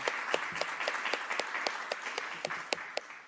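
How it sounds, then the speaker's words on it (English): Audience applause for the candidates at the close of a League of Women Voters candidate forum: a steady wash of clapping from a modest crowd, with a few sharp, close claps standing out at an even pace. "Let's give a round of applause to our candidates."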